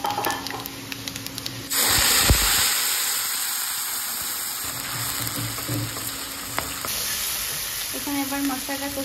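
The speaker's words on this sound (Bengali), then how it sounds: "এখানে এবার মশলাটা কষিয়ে নিচ্ছি।" Spice paste of chilli, turmeric and ground mustard sizzles and spits steadily in a hot pan for a mustard-based fish curry, a loud continuous frying hiss with brief stirring scrapes and a few faint background noises.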